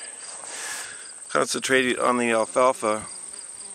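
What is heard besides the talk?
bumblebees buzzing among alfalfa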